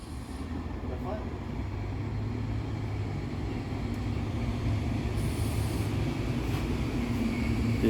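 Northbound train 729 runs through North Philadelphia station, a steady low rumble and rolling wheel noise holding loud and even throughout with a faint brief hiss near the end, while a voice talks over it.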